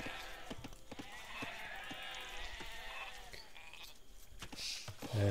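Sheep bleat in a medieval castle strategy game, a few wavering calls over clicks, soft hoof-like taps and game ambience, fairly quiet.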